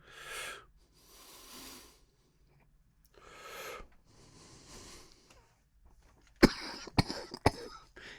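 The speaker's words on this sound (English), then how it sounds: "this really makes me want to cough after every hit" A person coughs after smoking cannabis, several close harsh coughing bursts separated by breathy pauses, ending in a cluster of sharp, loud hacks.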